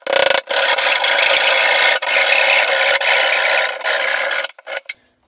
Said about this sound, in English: I'm going to get my drywall knife and then go this way until I hit my first stud.